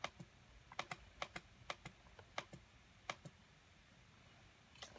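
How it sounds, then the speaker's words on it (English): Computer keyboard keys click in scattered bursts of typing, faint and close, with short pauses between keystrokes in an otherwise quiet room. "don't mind the clicking noises, okay?"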